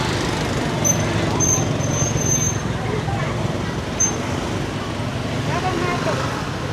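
Congested street traffic beside a market, a constant dense rumble of engines with faint high whines and scattered background commotion, loud and steady throughout.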